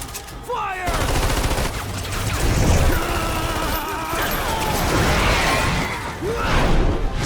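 Gunfire fills a scene in the video game Lost Planet, with loud bursts of automatic weapons and shots layered over crashes and mechanical clatter, running nearly continuously, with a shouted voice at the start.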